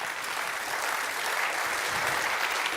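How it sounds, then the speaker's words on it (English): An audience at a tech summit applauds with a steady wash of clapping that holds evenly throughout. The applause sounds moderately distant, and no one speaks. "Big round of applause."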